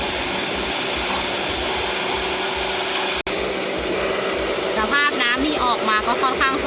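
A steady, loud hiss of a pressure washer spraying a Suzuki Ertiga's AC condenser, with a brief cut midway and high whistling tones near the end.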